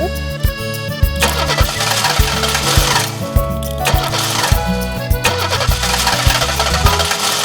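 Auto-rickshaw engine struggling with a failing clutch, a loud, uneven mechanical chugging with repeated knocks and rattles throughout, mixed with background music.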